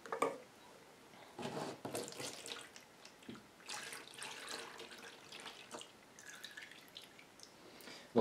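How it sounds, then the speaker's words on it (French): Melted bone glue poured from a vessel into a basin, a soft intermittent splashing and trickling liquid sound, close but faint, with brief pauses between pours. "Je vais pouvoir le verser dans une bassine."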